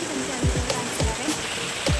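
Heavy rain pours down with water flowing over a flooded yard and road, making a steady, dense hiss with occasional low thumps and splashes throughout.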